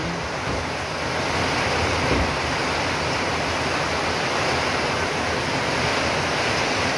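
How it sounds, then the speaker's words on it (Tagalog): Dense, roaring wash of heavy rain with gusting wind in a storm, steady and loud throughout, no voices. "Malakas ang ulan, may bagyo, ang lakas ng hangin"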